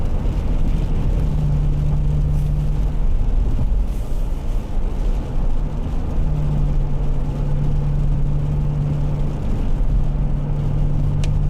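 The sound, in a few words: truck engine straining and revving while driving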